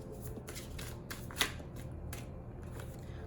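Tarot cards are shuffled up close with quick, soft riffling and flicking bursts, a few crisp slaps standing out in a quiet room.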